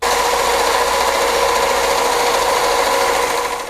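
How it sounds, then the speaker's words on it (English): Small belt sander grinding material off a steel shock bushing sleeve in a garage, a loud, even, high whirring hum running steadily for a few seconds before easing off at the end. "I'm going to put it on this little belt sander and take a little material off"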